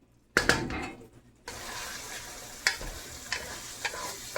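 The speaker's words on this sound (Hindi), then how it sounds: "अब इसको 1-2 मिनट के लिए हम इसके साथ ही रोस्ट करेंगे" Rice and chana dal are stirred and roasted in a pan, with quiet sizzling and a few sharp scraping clinks of the spoon against the pan.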